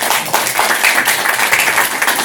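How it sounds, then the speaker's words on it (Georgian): Audience applause in a hall at a women's leadership society event, a dense, steady wash of many hands clapping throughout with no voices over it. "ვინგრიზის დარბაზში ტაში მეგობრებო"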